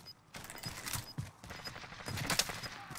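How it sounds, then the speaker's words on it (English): Rapid video game gunfire from a trio battle match, a series of sharp shots and bursts at moderate level running through most of the moment, with faint voices in the background. "I'll put bullets in that guy who just put bullets in you."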